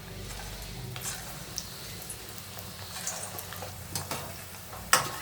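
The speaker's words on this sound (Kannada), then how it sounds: "ಅದರಲ್ಲಿ ಆಯಿಲ್ ಬಿಸಿಯಾಗಿದೆ, ಒಂದೊಂದೇ ಉಂಡೆ ಬಿಡೋಣ." Chicken keema kabab balls deep frying in hot oil, a soft continuous sizzle with scattered small pops and ticks, one sharper crackle near the end, no voices.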